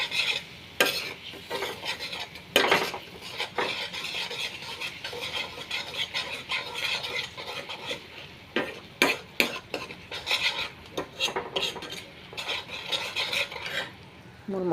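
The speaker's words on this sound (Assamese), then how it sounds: "লাৰি দিওঁ, লৰাই দিওঁ, ইফালে ওলট পালট কৰি দিওঁ" Spices frying in oil in a pan for a fish dish, stirred with a utensil: a continuous sizzle with frequent scraping and clinking strokes against the pan, close and fairly loud.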